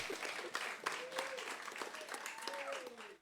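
Audience applause at a live event, a dense steady clapping that fills the whole moment with a couple of voices calling out over it.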